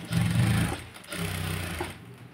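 A sewing machine stitches blouse piping onto saree cloth in two close, loud running bursts separated by a brief pause.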